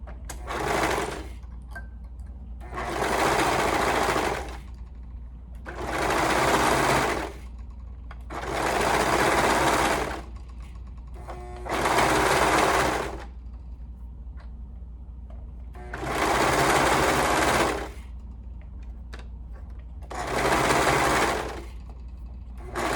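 A sewing machine stitches a sleeve to a cuff with a half-inch seam, running in six steady bursts of rapid whirring, each a couple of seconds long and separated by short pauses, close and loud.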